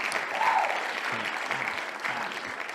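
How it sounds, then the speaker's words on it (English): A short burst of crowd applause, moderately quiet and steady for a couple of seconds, with faint low voices underneath. "Applause."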